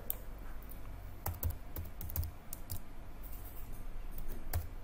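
Typing on a computer keyboard during a Tekla Structures software training session, a few scattered key clicks in short bursts over a quiet room hum, close and fairly faint.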